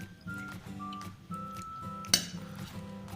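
Boiled eggs being cut into pieces for a Ramadan recipe, with one sharp, bright clink of a knife against a plate over a quiet, steady background hum.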